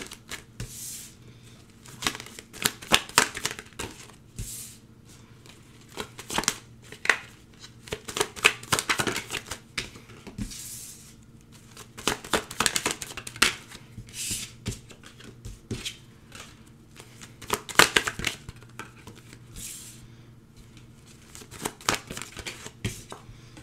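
Tarot cards shuffled and drawn by hand up close, heard as repeated quick riffling bursts and soft snaps separated by short pauses, with no talking.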